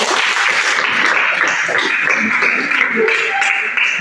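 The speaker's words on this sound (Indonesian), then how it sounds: "ya kita berikan tepuk tangan untuk kelompok" Classmates and a teacher in a school classroom clap for a student group, with a brief, steady round of applause lasting a few seconds and some faint voices underneath.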